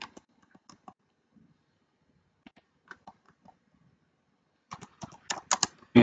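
Typing on a computer keyboard in short scattered bursts of clicks, sparse at first and then a quicker, louder flurry of keystrokes at the end, close and clear in a quiet room.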